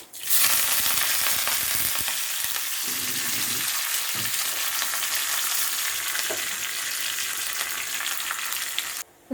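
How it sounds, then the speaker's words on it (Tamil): Mustard seeds, urad dal and curry leaves sizzle and pop steadily in hot oil for onion chutney tempering, a loud continuous crackle with scattered spits throughout. "கடுகு பொரிஞ்சிருச்சு."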